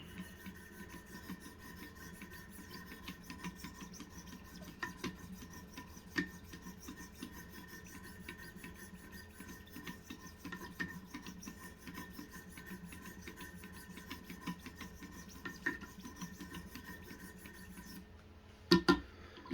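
A knife is sharpened on Wicked Edge Pro-Pack III stones with a long run of faint, steady rasping strokes, ending in a couple of sharp clacks as the stones are handled. No one speaks.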